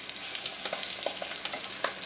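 Chicken pieces browning in oil in a cast iron pan give a steady close sizzle with scattered pops and crackles, moderately quiet and with no voices.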